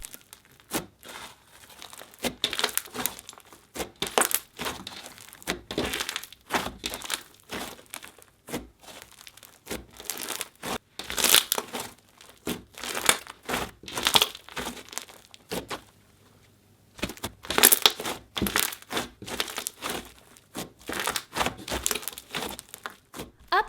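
Butter slime with foam beads squished and pressed by hand, a long run of crackly crinkling pops and squelches in irregular bursts, close up with no talking.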